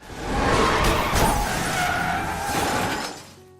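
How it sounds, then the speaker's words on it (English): Car accident with tires skidding and glass shattering: a loud burst of crashing and breaking glass over a sustained skid-like scrape, fading out after a few seconds. "A sudden accident leaves the car wrecked."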